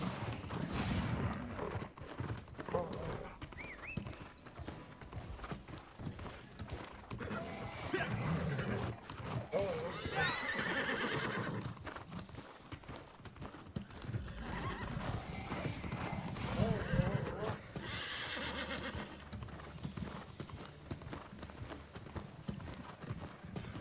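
Horses gallop with rapid clip-clop hoofbeats and occasional whinnies during a race in the video game New World, a busy, continuous stretch of hooves with some faint background noise.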